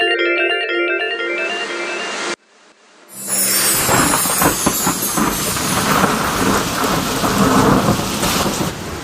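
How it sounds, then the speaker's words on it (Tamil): Heavy rain pours steadily with loud rumbling thunder, coming in after a short burst of music and a brief silence and then holding a dense, roaring wash to the end. "இப்பொழுதெல்லாம் மழை நன்றாக கொட்டி தீர்க்கிறது அரசே."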